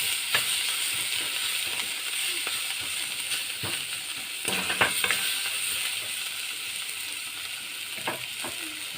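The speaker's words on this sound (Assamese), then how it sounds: "এয়া অকণমান বিলাহী গলালৈকে ভাজি কৰি থাকিব।" Tomatoes frying in a pan with ground spices, ginger, garlic, chilli and salt give off a steady bright sizzle and hiss, with occasional soft stirring clicks, close by and without talk.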